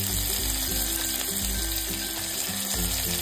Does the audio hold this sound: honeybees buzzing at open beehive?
no